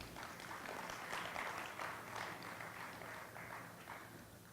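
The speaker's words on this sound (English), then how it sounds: "A round of applause for our guests," Audience applause for guests at a memorandum of understanding signing between ISAS and Brookings India, a steady, moderately distant wash of clapping that carries on through the whole stretch without a break.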